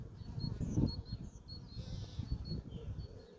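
Honeybees hum around an open hive frame during a colony inspection, a faint close buzzing that rises and falls over low handling rumble, with no voices.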